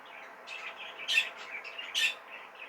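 A pair of normal zebra finches chirp in short, bright calls, with two louder, sharper notes standing out among softer twittering, close by and with no talking.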